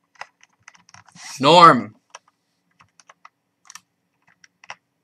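Computer keyboard keys tapped in sparse, irregular clicks, with a single short word spoken partway through.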